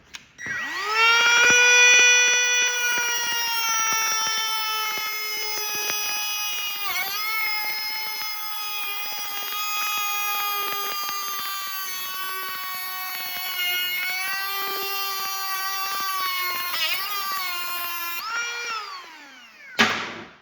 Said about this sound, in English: just using a Dremel or something and just cutting this chain